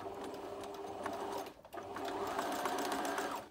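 A sewing machine stitches fabric in a fast, steady rattling whir, briefly pausing midway before stitching again, close and continuous.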